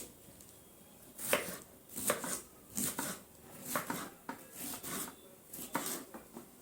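A knife cuts half a bell pepper on a cutting board for stuffed vegetables, a close series of separate rasping, scraping strokes spaced roughly every half second to second, with no speech.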